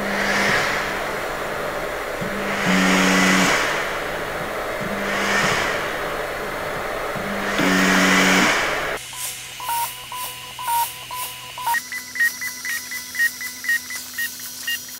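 An Anycubic Kobra 2 Pro 3D printer whirs as its fan runs in swelling waves, then switches to auto-leveling with rhythmic stepper-motor whines and short clicking probe movements, close and steady.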